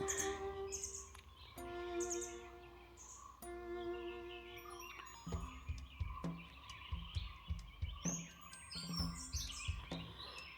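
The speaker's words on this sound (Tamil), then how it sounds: "தூரத்தில் கேட்குது பார்த்தீங்களா பறவைகளோட சத்தங்கள் எல்லாமே" Birds chirp and tweet at a distance in a hill-station resort at Yercaud in the early morning, with repeated whistled notes and scattered calls over a quiet outdoor background; many peacocks are nearby.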